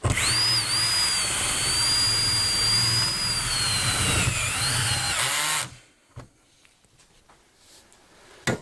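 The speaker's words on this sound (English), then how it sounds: "then drill and tap these in there," A power drill boring into a garage workbench whines loudly for about five and a half seconds, pitch dipping under load, then cuts off, leaving quiet room tone with a few soft knocks and taps.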